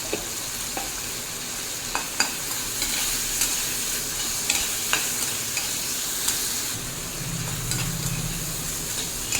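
Shrimp sizzle steadily in hot oil with salt and turmeric, a dense continuous fry hiss close up, broken by occasional light clicks and scrapes of a spatula stirring in the pan.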